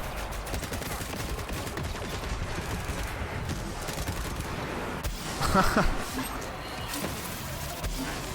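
Rapid gunfire from a weapon in the video game Borderlands 3, fairly loud, with dense sustained bursts and a heavier crash near the middle, layered over busy game sound effects.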